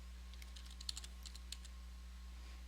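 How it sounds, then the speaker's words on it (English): Quick bursts of keystrokes on a computer keyboard, a short run of clicks with small pauses, close and fairly quiet over a steady low electrical hum. "And if we triple click on this, we can type in"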